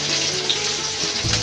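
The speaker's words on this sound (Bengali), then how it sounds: "তেল গরম হয়ে গেছে, দিয়ে দেবো রাঁধুনি আর একটু পেঁয়াজ দিয়ে দেবো।" Onion and radhuni seeds hitting hot oil give a steady, close, loud sizzle that holds for about a second and a half, with no voices over it.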